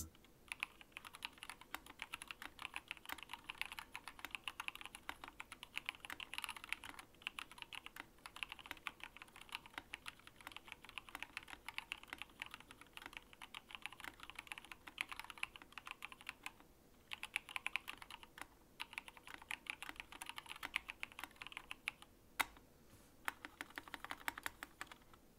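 Fingers type steadily on a custom 60% mechanical keyboard, producing a dense, continuous clatter of quiet clicky keystrokes with brief pauses between bursts and no voices.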